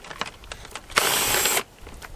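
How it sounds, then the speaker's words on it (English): A power drill whirs in one steady burst of about half a second while the handle is taken off a Husqvarna 365 chainsaw, starting and stopping sharply amid quieter workshop clatter. "drill works"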